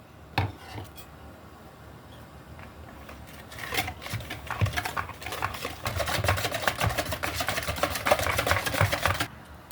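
Whisk or fork clattering against a bowl while sugar is beaten into five cracked eggs for a cake, starting with a few scattered taps and building into steady, fast rhythmic beating.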